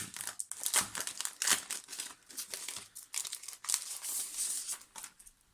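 A plastic notebook cover for a Midori A5 notebook is handled in its packaging, giving continuous close crinkling and crumpling of plastic with sharper rustles throughout.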